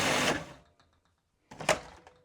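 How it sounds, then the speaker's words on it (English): A food processor grinds golden flax seeds for vegan beetroot burgers in two short, loud whirring bursts, the first about a third of a second long and the second near the end, with a quiet pause between them. "I'm going to put them in my food processor here."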